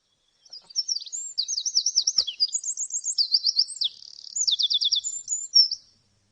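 A pair of wrens sings in a quick series of bright, high chirps and rapid trills for about five seconds, clear and close with no voices.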